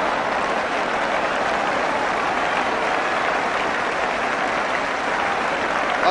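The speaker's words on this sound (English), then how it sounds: "applause all around the ground for that" A football crowd applauds all around the ground during a 1977-78 Tottenham versus Brighton match, a steady, broad wash of clapping with no commentary over it.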